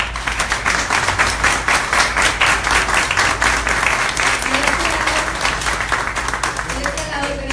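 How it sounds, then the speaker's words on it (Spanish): An audience at a public event in Tuxpan, Veracruz bursts into sustained, dense clapping that stays loud and even for several seconds before thinning slightly at the end. "Le brindemos un fuerte aplauso"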